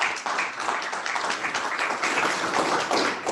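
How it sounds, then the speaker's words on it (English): Conference audience at a NAIFA financial professionals event applauding a speaker's introduction, steady dense clapping from a large crowd filling the room without pause. "I assume that applause is for my wife and not for me."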